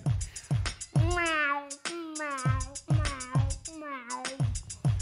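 A voice imitates a cat on a rooftop gutter, singing several wavering meows in a row over a steady rhythmic beat, close and clear, during a stage show.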